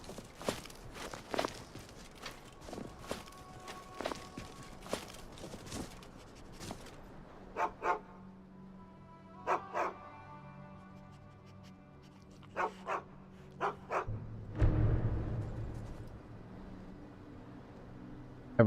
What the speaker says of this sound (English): I hear a dog barking.